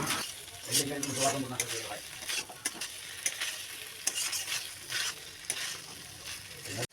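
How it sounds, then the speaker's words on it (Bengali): Shrimp and taro stolons are stir-fried in a pan, with a steady close sizzle of frying beneath repeated scraping and stirring strokes, with no talking. "আবারও নেড়ে চেড়ে একসঙ্গে মিশিয়ে দেব"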